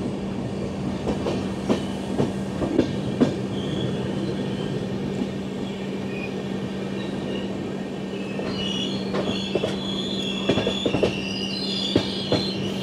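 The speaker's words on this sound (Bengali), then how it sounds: "কিন্তু আবার ট্রেন শুরু করেছে চলতে।" The Deccan Queen Express between Pune and Mumbai pulls away again after a halt, with a steady rolling rumble, a persistent low hum, rhythmic wheel clicks and high squeals building near the end.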